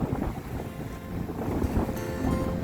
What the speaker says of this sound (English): Wow, this is windy.